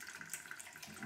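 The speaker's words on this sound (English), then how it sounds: "Turn the tap on, and hopefully with these containers it's a good tap" Tap water runs steadily into containers at a sink, a continuous close splashing hiss with no voices.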